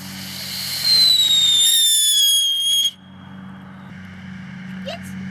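A firework shoots up with a rising high-pitched whistle that holds for about two seconds and cuts off sharply, over a steady low hum and some background voices.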